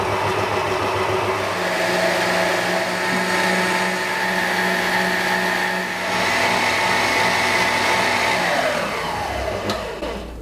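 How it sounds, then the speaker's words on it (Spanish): An electric mixer whips eggs and sugar into a Genoise sponge cake batter, a steady loud motor whine with a churning hum that runs throughout before the pitch drops as it slows near the end. "Añadimos el azúcar y lo batiremos muy bien."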